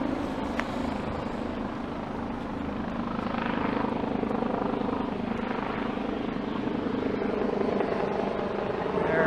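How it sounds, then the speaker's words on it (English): A helicopter's rotor thrum drones steadily throughout over a Toronto street, a continuous loud whirring that seems to pass overhead. "I think is a Project Orange helicopter."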